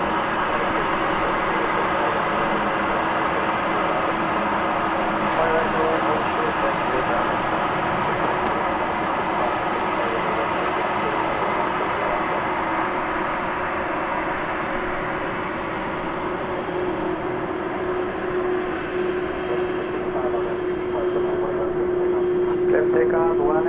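A jet airliner taxiing at DFW Airport after landing on the east side, a steady loud engine whine with a high tone that holds throughout and shifts slightly near the end.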